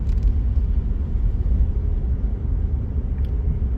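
A two-wheel-drive vehicle creeps slowly along an icy road during a Louisiana winter storm, its steady low engine and road rumble droning continuously up close with no talk.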